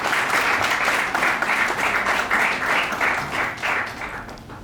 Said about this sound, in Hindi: एक बार जोरदार तालियों के साथ स्वागत है।